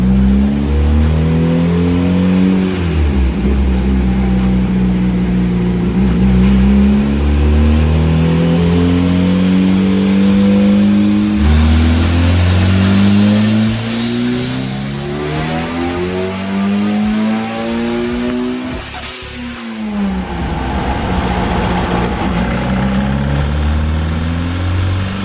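A turbocharged 1.6-litre Mazda Miata engine revs hard on a dyno, very loud and close. It climbs through repeated rising pulls, cuts off sharply near the end, then settles to a rough idle.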